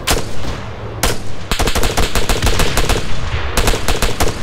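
Loud, close automatic gunfire in the Arma 3 video game fires in rapid bursts, with sharp repeated shots broken by short pauses.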